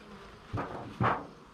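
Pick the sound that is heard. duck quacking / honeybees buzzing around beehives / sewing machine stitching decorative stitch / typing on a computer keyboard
honeybees buzzing around beehives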